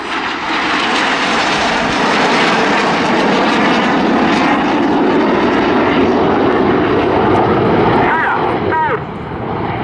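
Red Arrows jets roar overhead during a flying display at the 2022 Southport Airshow, a loud continuous jet rush filling the whole stretch while a commentator speaks over it.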